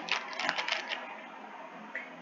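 A computer keyboard is typed on while entering a ledger in Tally Prime accounting software: a quick burst of soft, close keystrokes, then quieter room tone and one last light tap.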